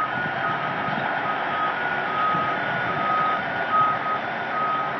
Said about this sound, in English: All the backup sirens, everything are working.